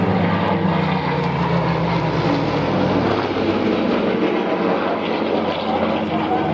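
A propeller aircraft flies a display at the Duxford Flying Legends air show, its engine drone loud and steady throughout, with a faint voice underneath.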